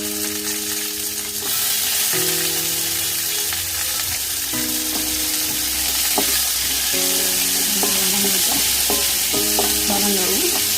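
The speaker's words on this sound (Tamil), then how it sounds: "நறுக்கி வச்ச வெங்காயம், பச்சை மிளகாய், கறிவேப்பிலை போட்டு" Steady oil sizzle of onions, green chilies and curry leaves frying in a pan, with scraping stirs and clinks of a utensil against the pot throughout.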